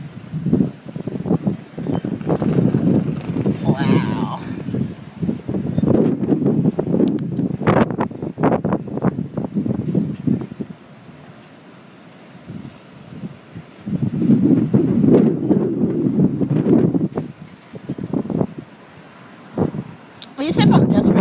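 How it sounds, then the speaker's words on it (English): Strong gusts of wind buffet the microphone in loud, rumbling bursts, easing briefly in the middle before roaring back. "Woo, it's windy."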